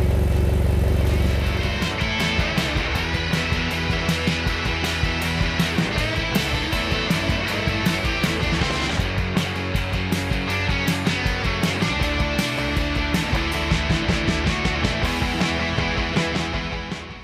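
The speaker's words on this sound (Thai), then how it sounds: "ตอนนี้เราลองเร่งนะครับให้เยอะที่สุดไปก่อน" A BMW X1 engine is revved hard for a long, loud, sustained stretch with a dense, droning roar and frequent sharp crackles throughout. No speech.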